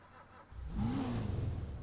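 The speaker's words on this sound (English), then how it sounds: "But I'll show you, it sounds the very same as the sports car." A car engine in GTA 5 Online, a car said to sound just like the sports car, revs up sharply after a brief quiet start, then holds a loud, close, steady engine roar with a rising and falling pitch and no voices.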